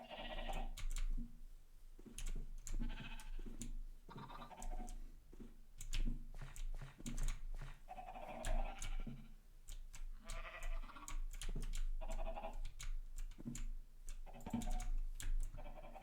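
Sheep bleating in Minecraft, repeated short bleats close by, mixed with rapid computer keyboard typing throughout.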